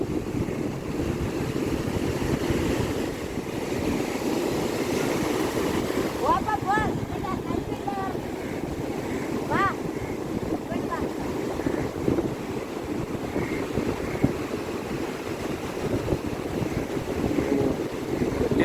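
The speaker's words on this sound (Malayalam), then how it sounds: "തിരയൊക്കെ വരുന്നു അത് കയറാൻ വരും" Steady, loud roar of surf and wind rushes on without a break as sea waves break near a fishing boat being launched into the sea, with faint muffled voices now and then beneath it.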